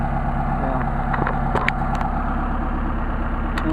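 An engine fitted with Solex 44PHH carburetors idles at about 900 rpm, a loud, steady, even rumble held close throughout, with a few light mechanical ticks and no voices.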